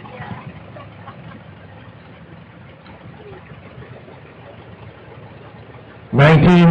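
A 1933 Farmall F30 tractor engine running at a low, steady rumble at an antique power show, heard from a distance, until a sudden loud burst of sound at the end.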